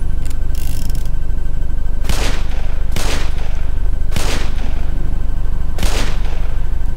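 Gunfire at a creature in Black Mesa: four loud, heavy shots spaced about a second apart ring out over a constant low rumble of game ambience, with a brief burst of noise near the start and no talk.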